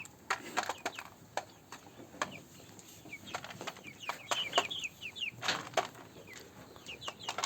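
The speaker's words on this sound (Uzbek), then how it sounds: "Tomoshaga 4 ta xo'roz." Four roosters cluck and call in short bursts, fairly near, with wings flapping and rustling between the calls in an otherwise quiet outdoor setting.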